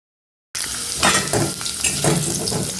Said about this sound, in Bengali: এবার কেটে রাখা আলুটা দিয়ে দিচ্ছি। আলুটাকে ভেজে নেব।